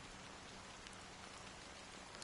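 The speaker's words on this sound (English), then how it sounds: "how long has this rain been going on for?" Constant rainfall in Honkai: Star Rail pours down as a soft, even hiss of drops on surfaces, low in level and unbroken for the whole stretch, with no speech.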